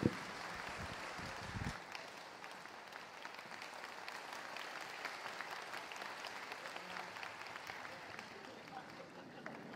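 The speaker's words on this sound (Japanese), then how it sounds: "皆様どうぞ大きな拍手をお送りください。" A concert audience applauds warmly as flowers are presented to a guest performer at the Swing Stars Orchestra's 47th-anniversary regular concert. The steady, dense clapping fills the hall for about ten seconds, with a louder start.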